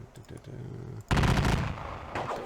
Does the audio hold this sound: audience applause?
no